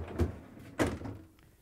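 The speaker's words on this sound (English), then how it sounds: "To get to the part, we need to open the freezer door." An LG/Kenmore freezer door being pulled open, giving two soft thuds about half a second apart, close and moderately loud, with the seal releasing and a brief rustle after.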